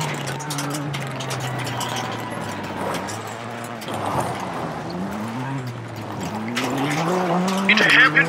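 Rally car in the WRC 8 video game braking hard into a hairpin on a gravel stage, engine note dropping and rising as tires skid and squeal, loud and continuous beneath a co-driver reading pace notes.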